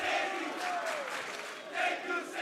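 Excited crowd at a boys high school basketball game, Cardinal Hayes against Stepinac, roaring steadily in a packed gym with swells of shouting near the start and end, a broadcast voice partly audible beneath.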